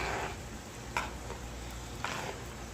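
A spoon stirs a pan of simmering meat with added beef base, a faint low sizzle underneath with two brief scraping knocks of the spoon against the pan; no talking.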